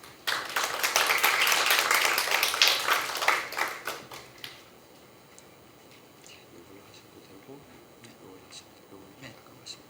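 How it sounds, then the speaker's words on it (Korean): Lecture audience giving a welcoming round of applause for a professor, dense clapping for about four seconds that thins into scattered claps and fades into room quiet. "여러분의 뜨거운 박수로 도리우미 유타카 교수님을 강단으로 모시겠습니다"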